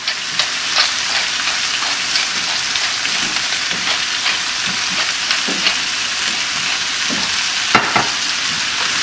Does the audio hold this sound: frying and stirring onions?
yes